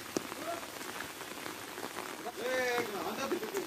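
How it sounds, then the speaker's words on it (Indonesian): Steady rain falling and pattering on surfaces outdoors, a dense hiss that grows heavier partway through, with people talking faintly underneath. "Oh, hujan nih."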